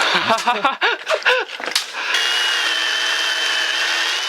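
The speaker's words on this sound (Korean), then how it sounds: "아빠는 전기톱 담당" A man saws wood with an electric chainsaw in the countryside, its steady, loud, high-pitched buzz starting about halfway through, right after a stretch of close talking.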